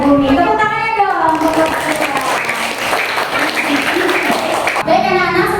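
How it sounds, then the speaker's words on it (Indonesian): Classroom of children clapping together in a burst of applause lasting several seconds, close and fairly loud, with a teacher's voice heard briefly at the start and end. "Tepuk tangannya dong"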